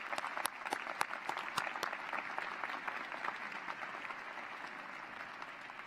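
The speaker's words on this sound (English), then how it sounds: "Let's give a hand clap for the friends and family of these graduates." An audience at a law school commencement ceremony applauds for graduates' friends and family, producing continuous, fairly distant clapping with sharper individual claps near the start.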